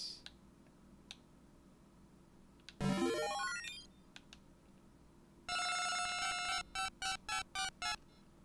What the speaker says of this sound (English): This is how dialing worked back in the 90s, apparently.